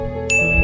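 A bright notification bell ding sound effect rings out partway through, with a clear metallic chime that sustains over a steady tonal backing, loud and close.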